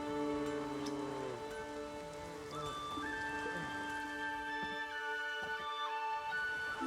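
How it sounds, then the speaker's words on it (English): Steady rain patters on surfaces in a village in the video game Witcher 3, a constant soft hiss beneath drawn-out musical tones, with no talk. "There's no point standing here in the rain"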